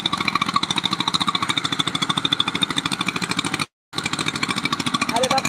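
A trawler boat engine on the Jamuna river chugs in a fast, even, loud putter, with one brief drop-out partway through and a voice speaking over it.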